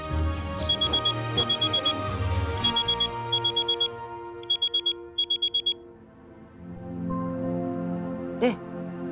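A mobile phone alarm rings indoors in short repeating bursts of electronic beeps, several quick clusters that then stop, followed by quieter room sound.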